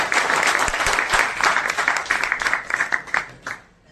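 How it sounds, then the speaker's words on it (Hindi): Audience applause at an evening cultural gathering in Mumbai, a steady patter of many hands clapping for a few seconds before tapering off near the end. "आप अपने लिए तालियां बजाएं।"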